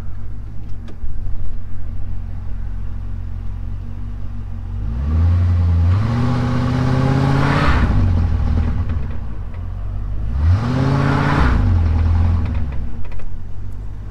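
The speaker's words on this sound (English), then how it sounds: "So if you're doing a burnout, that's the one that's gonna smoke, not this one." A 2003 Mercury Grand Marquis engine revving hard twice during an attempted burnout, each rev climbing to a loud roar and falling back to a steady idle, close and with no talk.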